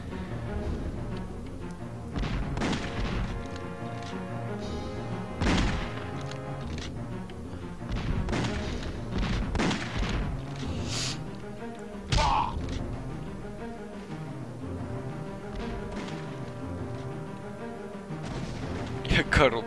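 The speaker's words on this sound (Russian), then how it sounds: "Коробки взрываются." Boxes and wooden planks explode in the Superman Nintendo 64 game, giving repeated dull thuds and crashes over busy game music, with several louder bursts spread across the stretch.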